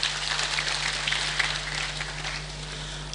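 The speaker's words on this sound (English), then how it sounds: "Let's put a round of applause for them." A graduation ceremony audience applauds first-class engineering graduates. The clapping is dense and steady, like rain, filling a large hall, with a faint electrical hum underneath.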